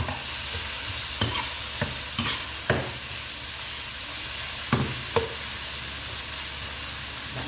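Mee sua noodles with pepper being stir-fried in a pan, a steady soft sizzle broken by several sharp scrapes and knocks of the utensil against the pan.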